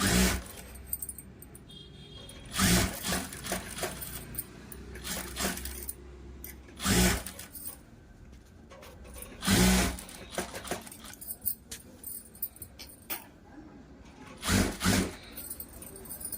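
A sewing machine stitches a blouse lining in short, separate runs, each a loud rattling burst with quieter handling sounds between them and no speech.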